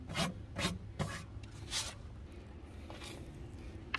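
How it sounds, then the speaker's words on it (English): A brush sweeps grip tape scraps off an RV step in several quick, close rubbing strokes, followed by softer scraping. "Brush the scraps."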